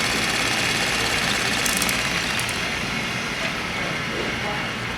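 A home-made knife sharpening machine runs at 350 RPM or faster, giving a steady, loud mechanical drone with a broad hiss that holds evenly throughout, close by and alone.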